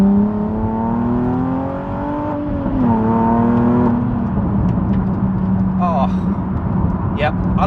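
A Nissan 370Z Nismo on a wet road sends out a loud, steady engine drone that dips and then settles at a lower pitch, with a brief voice near the end.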